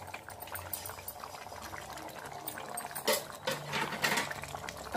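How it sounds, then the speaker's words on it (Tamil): A pot of kurma curry bubbles and simmers close by, soft gurgling and popping with a few louder bursts toward the end. "பாருங்க, குருமா நல்லா கொதிக்குது."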